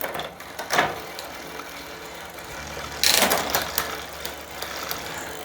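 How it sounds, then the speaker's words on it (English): Gears on a Retrospec Beaumont REV bicycle click as the shifter is worked, two distinct bursts of mechanical clicking and ratcheting rising out of a quiet, close background. "Now, as I click through the gears,"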